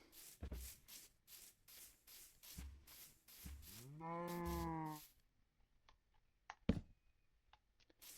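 A cow in a video game lets out a single drawn-out moo of about a second, loud and close, amid scattered scraping and clicking footstep-like noises before and after it.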